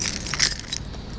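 Metal keys jangle and clink in a quick handheld shake, bright and close, with a few louder rattles midway before fading to lighter jingling, no voices over it.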